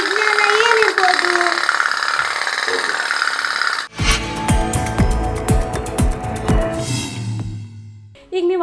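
A toy putt-putt steam boat engine runs with a rapid, steady popping pulse, loud and close, following a few seconds of a continuous droning hum.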